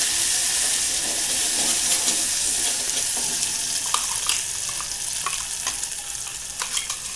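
Coconut, ginger and garlic masala frying in oil for an egg curry, a steady close sizzle with intermittent stirring scrapes and crackles throughout.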